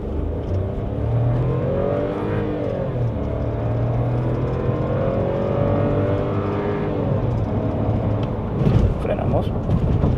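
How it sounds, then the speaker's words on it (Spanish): A 2026 Volkswagen Nivus crossover accelerates hard with its gearbox in sport mode, engine note climbing steadily and loud from inside the cabin for several seconds, with a brief clunk near the end. "vamos a poner modo deportiva la caja, que sería lo único modo de manejo que tiene este auto, y vamos a acelerar"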